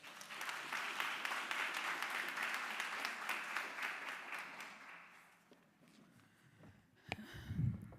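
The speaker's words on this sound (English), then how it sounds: "Can we give her a round of applause again?" An audience at a faculty reading event claps in sustained applause for about five seconds, then it fades out into quiet room noise with a brief bump near the end.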